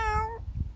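A cat lying in the sun gives one short, clear meow with a falling pitch, close by, followed by low background rumble.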